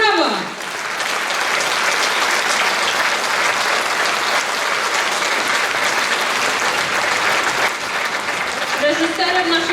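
Sustained applause from an audience at a Lemko culture gathering in Gorzów Wielkopolski, dense steady clapping filling nearly ten seconds, with brief speech at the start and end.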